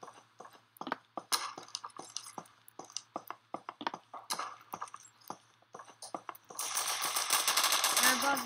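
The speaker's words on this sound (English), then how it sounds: "Keep hearing gunfire, but I really don't know where it's coming from." Gunfire in a Roblox Call of Duty game, a series of sharp, irregular single shots and short bursts at moderate loudness, followed by a harsh, noisy rush of sound near the end.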